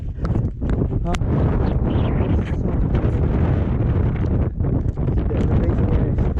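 Strong wind roars across a mountain biking trail at Pacifica, buffeting the microphone in a loud, continuous rumble with gusting surges throughout.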